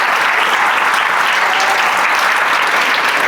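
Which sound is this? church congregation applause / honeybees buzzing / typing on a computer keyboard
church congregation applause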